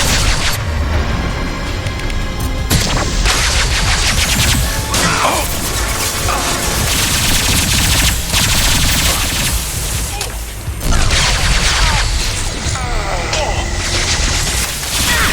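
Heavy gunfire in the Mass Effect 2 video game, with sustained loud bursts of automatic fire and booming impacts crowding a chaotic firefight, over which voices shout.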